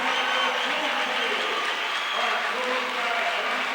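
A basketball crowd roars in a packed gym at the 2009 SCAA final between Dexter and Bloomfield, a loud continuous wash of cheering and clapping with voices mixed through it.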